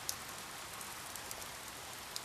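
Rain on a stormy night falls against glass as a dense, even hiss, close and steady, with a few faint individual drops ticking through the wash.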